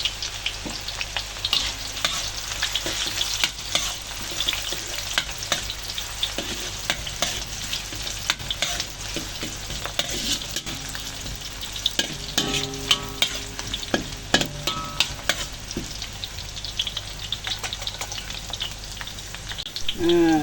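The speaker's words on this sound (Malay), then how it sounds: "Saya buat bawang goreng sikit dulu ya" Onions sizzle and crackle steadily in hot oil, frying until crisp, with occasional clinks and scrapes of stirring throughout.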